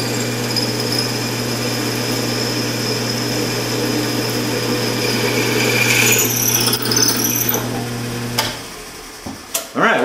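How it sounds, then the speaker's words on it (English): A steady high-pitched electric drill whine with a 9/32 bit runs for about eight seconds, then cuts off, followed by a few clunks and handling noises. "so I'm using a 9/32 drill bit"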